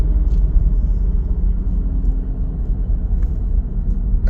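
A 2021 BMW G20 330e plug-in hybrid sedan decelerating on the road, giving a steady low cabin rumble with a faint sustained howl under the road noise, no talking.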